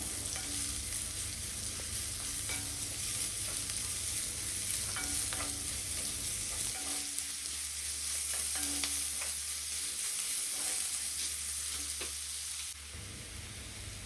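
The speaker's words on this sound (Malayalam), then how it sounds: "എന്നിട്ട് നമ്മൾ അരിഞ്ഞു വെച്ചേക്കുന്ന സവാള അതിലേക്കിടും എന്നിട്ട് അതും ലൈറ്റ് ബ്രൗൺ ആവുന്ന വരെ സോട്ട് ചെയ്യണം" Chopped onions sautéing in a pan for a garlic chicken roast, a continuous close sizzle with intermittent stirring scrapes, and a steady hum underneath that shifts partway through.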